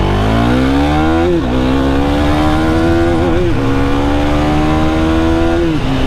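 A KTM Duke 390 single-cylinder motorcycle accelerating hard through the gears, its loud engine note climbing in pitch, dipping briefly at each shift, then rising again, heard up close.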